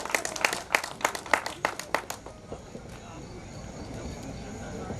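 Audience at a Yakshagana honouring ceremony claps for a man being felicitated on stage, a burst of sharp, fairly close claps for about two seconds that thins out into quieter room noise and murmur.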